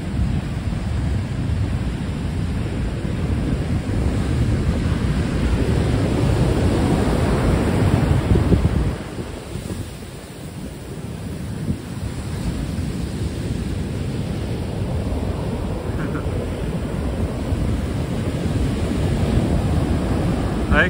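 Ocean waves, a steady broad wash of surf with wind noise on the microphone, one softer lull midway, continuous and fairly loud with no talk.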